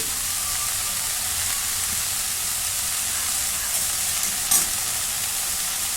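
Red amaranth greens cooking in a pan and being stirred, a steady hissing sizzle throughout with a brief scrape or clink near the end.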